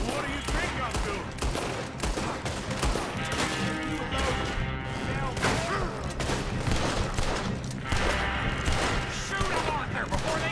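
Rapid gunfire in Red Dead Redemption 2, dense overlapping bursts and volleys sustained throughout, loud and close, with shouted voices mixed in.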